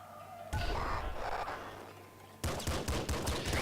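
Revolver fire crackles in the top-down shooter Nuclear Throne, a loud blast followed by a rapid string of sharp shots amid chaotic game noise.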